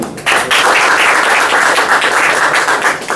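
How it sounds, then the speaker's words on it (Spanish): An audience claps loudly and continuously at the close of a lecture on computer security architecture, a dense, sustained wash of applause that starts abruptly and holds steady throughout. "Vamos a darnos un fuerte aplauso"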